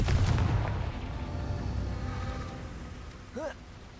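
A Confringo spell blast in Hogwarts Legacy lands as a heavy booming explosion at the start and then trails off into a long rumbling decay, with a brief tonal chirp near the end.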